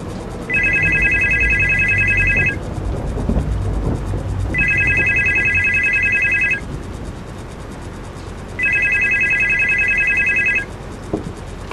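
A telephone rings in the horror video game Supernormal, three long electronic ring bursts evenly spaced and loud over a low rumbling ambient background, with no talking.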